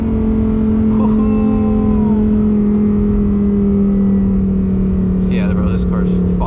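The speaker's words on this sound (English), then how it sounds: "It sounds so good when you downshift." A Lamborghini Huracan Tecnica V10 engine drones loudly at steady revs, its pitch sliding gradually lower as it downshifts and winds down, heard from inside the car.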